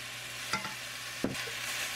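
Spinach stir-fried with salt and oyster sauce in a home kitchen, with two brief scraping stirs of a utensil against the pan over a low, steady background hum.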